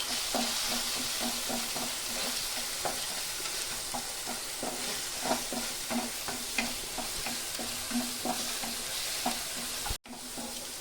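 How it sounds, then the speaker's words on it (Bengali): Spice tempering fries in a pan for paneer lababdar, a steady close sizzle broken by regular scraping strokes of a spoon stirring in an even rhythm, with a brief dropout near the end. "ফোড়নটা আমার ভালো করে ভাজা হয়ে গেছে"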